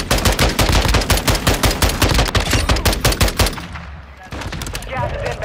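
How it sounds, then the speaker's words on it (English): Mortar strike in a ranked multiplayer shooter game: rapid, loud bursts of explosive impacts in a fast repeating rhythm, then easing off into a rumbling tail with a final blast. "Our mortar strike is inbound."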